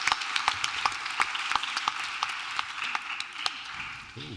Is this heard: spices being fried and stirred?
no